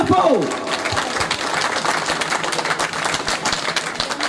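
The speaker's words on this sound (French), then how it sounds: "Applaudissez bien fort." A crowd at an outdoor family evening on a street in Mauritius claps loudly and steadily, with a voice briefly over the opening moment and dense applause continuing throughout.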